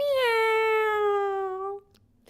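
A single drawn-out, wavering meow imitated by a human voice, clear and close, fading at the end.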